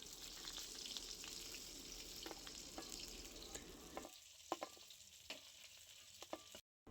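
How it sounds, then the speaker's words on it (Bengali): Pieces of rohu fish fry crisp in hot oil with a dense, steady sizzle and crackle. The sound eases somewhat midway, then cuts off near the end, with no voices. "খুব ভালো করে একটু কড়া করে মাছগুলো ভেজে নেব"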